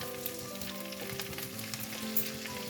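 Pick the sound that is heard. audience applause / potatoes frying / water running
potatoes frying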